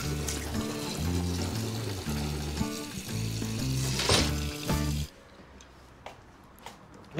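Tap water runs into a bathroom sink, a loud continuous splashing and pouring for several seconds before cutting off, leaving a quieter room with faint small clicks and drips.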